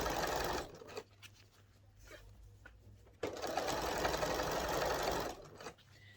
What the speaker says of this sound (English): you sew it in wherever you want to stitch, as long as it lines up on the side